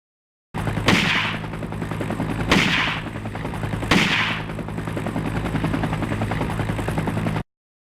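A steady helicopter rotor drone plays throughout, interrupted by three sharp gunshot sound effects, each followed by a noticeable dip in the helicopter's loudness before it swells back.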